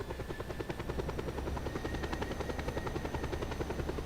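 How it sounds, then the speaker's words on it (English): A Just Cause 2 video game helicopter drones steadily with a rapid rotor chop throughout, alone and at a moderate level with no talk. "Now we don't need the helicopter anymore,"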